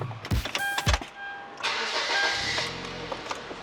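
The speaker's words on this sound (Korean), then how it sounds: "시동 한번 걸어볼게요" Starter cranking of an LPG-fuelled Hyundai NF Sonata heard from inside the car, with a few short clicks and a quick whir before the engine catches and settles into a steady, close idle.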